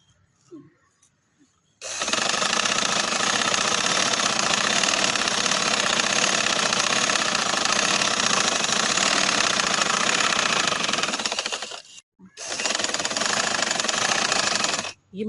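A sewing machine runs in a long, steady loud whir while stitching trouser fabric, stopping briefly near the end before starting up again, heard close with no talk.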